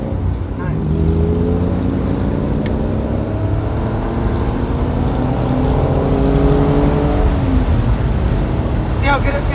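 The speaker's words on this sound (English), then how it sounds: "See how good it feels when you're revving it?" A black Honda NA1 NSX engine revs and climbs through gear shifts from inside the moving car. Engine tones rise in repeated sweeps under steady road roar, with people talking over it.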